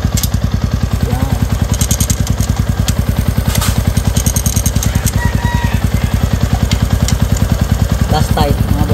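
Honda Sniper 150 motorcycle with a TRC exhaust, engine running loud and close with a steady rapid firing pulse through the whole stretch, slight rev changes and a voice talking over it.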